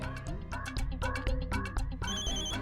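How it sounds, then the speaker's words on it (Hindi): A phone ringtone plays loudly in a short, repeating electronic melody of bright, rhythmic tones, with a higher chiming pattern near the end. "फोन आया। फोन किसका फोन है? जल्दी उठाओ फोन।"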